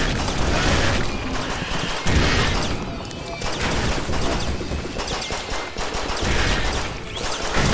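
Rapid gunfire in the fast-paced shooter Post Void: dense, loud bursts of shots follow one another almost without pause, with brief dips before the barrage resumes.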